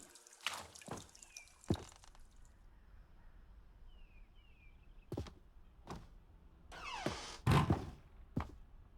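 Scattered drips and hollow thunks echo through a water room in The Stanley Parable, irregularly spaced and fairly quiet over a low ambient hum, with a denser cluster of drops near the end.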